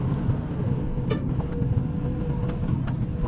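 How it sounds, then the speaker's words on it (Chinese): A loaded cargo truck pulls away on a freshly built, slippery rural road. A pushing excavator runs nearby. The low engine rumble holds steady and continuous, with a few faint higher squeaks and clanks over it. "让货车先开出去"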